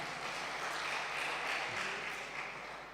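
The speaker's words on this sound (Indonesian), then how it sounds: "Tepuk tangan dong buat Pak Jenderal." Guests at a church ordination ceremony in Serang, Banten, applaud a retired general, a soft, even wash of clapping heard from some distance, steady throughout with no clear talk.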